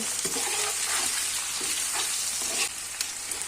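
Chicken and sliced onion sizzle loudly as they are stir-fried for street-style chow mein, with a steady frying hiss and stirring scrapes.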